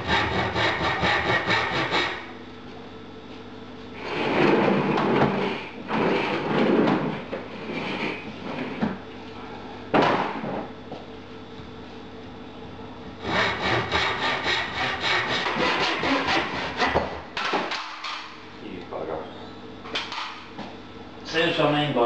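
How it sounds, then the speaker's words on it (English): Hand saw cutting lengths of timber for the feet of a sword stand in a kitchen, rhythmic rasping strokes in several bursts separated by pauses, close and loud. "I'll be cutting the lengths of timber for the feet."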